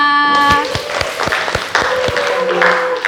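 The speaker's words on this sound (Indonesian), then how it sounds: "Tepuk tangan untuk kita semua" Participants in a teacher-training class session clap as a group, sharp separate claps falling in a loose rhythm, loud and near, with some tonal voice or background sound threaded underneath.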